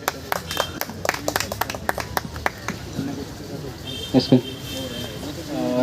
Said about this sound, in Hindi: अखिलेश जी के लिए तालियां बजाइए